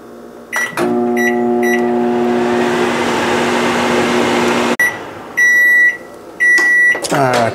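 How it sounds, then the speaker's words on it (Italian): A microwave oven hums steadily for several seconds, then stops with a click, followed by a few loud electronic beeps. "Andiamo in microonde"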